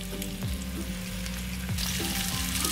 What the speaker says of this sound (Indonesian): So, sekarang kita akan goreng ayam kita, tapi kita tak goreng penuh, kita hanya goreng sikit kat bahagian luar dia.